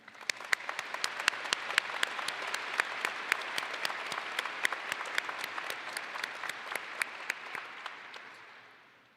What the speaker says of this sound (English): Please join me in a round of applause for all these individuals.